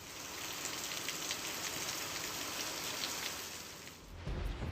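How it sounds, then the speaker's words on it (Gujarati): Heavy early-morning rain pours steadily in Amreli, Gujarat, a dense continuous hiss that holds for several seconds before easing briefly, then a low rumble rises at the end. "દલખાણિયા, ચાંચે, આંબાગાળા અને સોઢાપરામાં વરસાદ પડ્યો"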